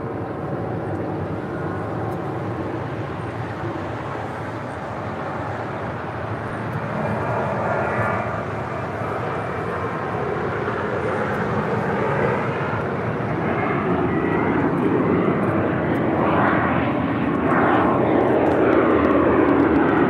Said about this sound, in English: Hawaiian A330 heading to Kahului, rolling down 24 left